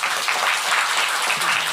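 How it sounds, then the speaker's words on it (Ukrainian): A studio audience on an evening talk show claps steadily, with dense, continuous applause throughout the short stretch. "Олексія варто підтримати просто оплесками"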